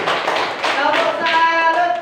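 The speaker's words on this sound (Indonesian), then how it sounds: "Ya, tepuk tangan dulu." A classroom group claps hands together in a brisk, dense patter lasting about two seconds, fairly close, with some voices and a brief tone mixed in.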